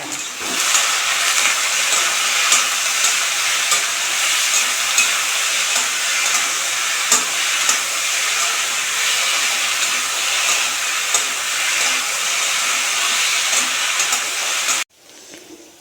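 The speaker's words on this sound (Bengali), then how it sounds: "পেঁয়াজ লঙ্কা দিয়ে আলু ভাজা" Potatoes fry in a pan with onion and chilli, a continuous, fairly loud sizzling hiss with faint scraping that cuts off abruptly near the end.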